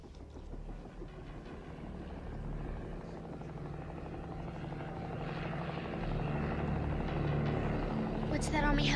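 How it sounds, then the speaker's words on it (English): An army helicopter's low rotor throb and engine roar fill the clip steadily, growing slightly louder toward the end, with faint voices underneath, in an action movie. "What's that army helicopter doing here?"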